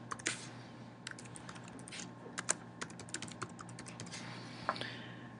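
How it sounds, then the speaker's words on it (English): Someone types an email address on a computer keyboard: a quick, uneven run of light key clicks, close and quiet, with short pauses between bursts and no talk. "all you need to do is type in their email address"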